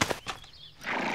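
An untrained horse in an animated series gives a short, loud whinny with rising and falling harmonics, lasting about a second.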